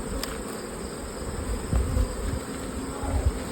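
Honey bees buzzing around an opened hive during a honeyflow, a steady insect drone filling the air with a few louder swells as individual bees pass close.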